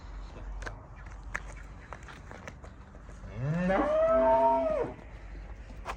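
A single cow or heifer gives one loud, drawn-out moo lasting over a second, rising in pitch and then holding steady, set against quiet background shuffling at a cattle sale in Tashkent.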